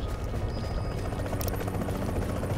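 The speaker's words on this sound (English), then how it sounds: "Oh man, there's a helicopter." A helicopter in the video game The Division, a loud, continuous low rotor thrum with a steady chopping pulse that holds close and unbroken throughout, with no talk over it.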